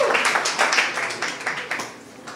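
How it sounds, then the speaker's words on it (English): Scattered clapping from a small group of people at a public talk on placemaking and better cities, brief and fairly close, with loose uneven claps that thin out near the end. "Big applause."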